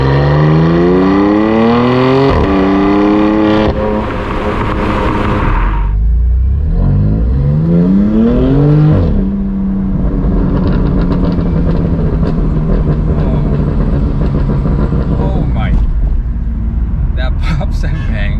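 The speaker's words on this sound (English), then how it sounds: "Pops and bangs are crazy, man." A loud aftermarket RES cat-back exhaust on a BMW M2 Competition revs up and down repeatedly, crackling with pops and bangs between surges of engine roar, close and continuous.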